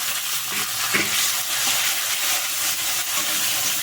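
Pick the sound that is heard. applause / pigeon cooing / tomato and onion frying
tomato and onion frying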